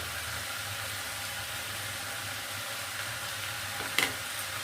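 Roasted coriander, cumin and fennel seeds hit a pan of cooking mutton, a steady low sizzle underneath with a brief sharp clink near the end.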